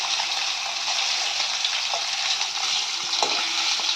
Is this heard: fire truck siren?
no